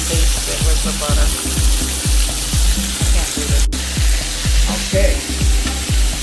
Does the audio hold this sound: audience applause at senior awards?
no